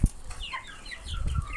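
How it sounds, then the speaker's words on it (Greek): A small chick chirps in a few brief, high peeps up close, with soft handling noises and low thumps around them. "Κοιτάξτε, εδώ το πουλάκι."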